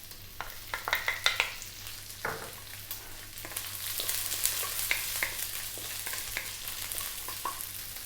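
Onions sizzling in a hot pan for Filipino chicken with taro leaves, a soft steady crackle broken by scraping stirs and light clatters, close and fairly quiet with no talk.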